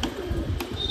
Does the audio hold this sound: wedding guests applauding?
no